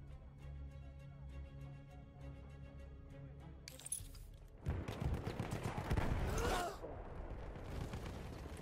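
Armored machine gunner firing in the Battlefield 1 video game, a burst of heavy gunfire and clattering game noise after a humming stretch, fairly loud and close, with no talk over it.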